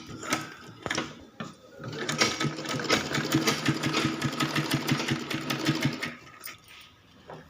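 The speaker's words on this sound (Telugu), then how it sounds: "తర్వాత ఈ సైడ్కు మనం స్టిచ్ చేసుకోవాలి." Sewing machine stitching along the side seam of an umbrella skirt, a steady rapid whirring stitch run of about four seconds with short bursts before and a slowing finish, close and fairly loud.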